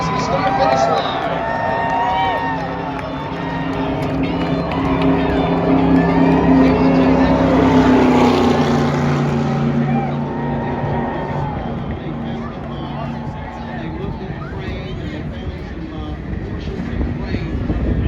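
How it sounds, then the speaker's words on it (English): Dale Earnhardt Sr.'s restored Chevy Nova race car drives through turns 3 and 4 of an oval track, its engine a steady roar under a commentator talking over the public address. "a beautifully restored car as it makes its way through the middle of turns 3 and 4 now"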